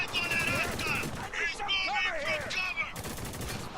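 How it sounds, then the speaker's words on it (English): Shotgun blasts in the video game Spec Ops: The Line, several sharp reports mixed with game effects and a voice talking over the action. "Come on, shotgun, do your thing."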